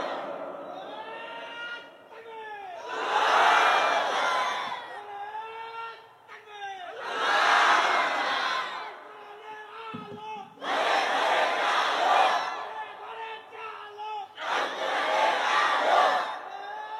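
A crowd at a religious sermon shouts takbir, Allahu Akbar, in unison: four loud, drawn-out chanted bursts spaced a few seconds apart, with a voice leading and speaking in the gaps between them.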